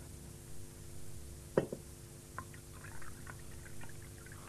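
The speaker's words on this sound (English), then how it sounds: "Let's pour you a cup." Tea poured into a cup: a brief clink, then a soft, quiet trickle of liquid against a faint steady background hum, with no talking.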